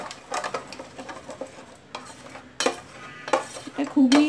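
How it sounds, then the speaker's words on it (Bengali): A spoon scrapes and clinks around a bowl as 5–6 spoonfuls of mustard oil are worked into spice paste for steamed hilsa, in irregular close scraping strokes with a few sharper knocks, no talking. "দিয়ে মশলার সাথে সর্ষের তেলটাকে খুব ভালো করে মিশিয়ে নিতে হবে।"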